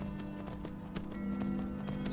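Hooves of the black horse Shadowmere clip-clopping at a walk in the video game Skyrim, a soft steady run of hoof falls under a low ambient game hum, with no talking.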